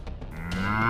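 Cartoon bulls low in a short, rising moo that swells and holds near the end, with faint background noise behind it and no talk.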